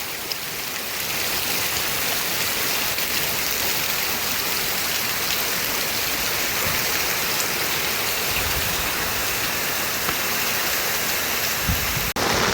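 Floodwater surges across a farm field after monsoon rain, a steady, dense broadband rush like a torrent that holds constant and close throughout, with a brief knock near the end.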